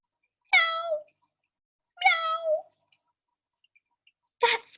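A cat meows twice, each a clear drawn-out cry separated by a pause, followed by a short noisy burst at the end.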